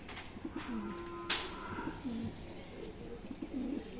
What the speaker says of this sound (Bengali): এই যে আর একটা পায়রা নিয়ে চলে এসেছি, কালাঙ্কা, স্টার কালাঙ্কা।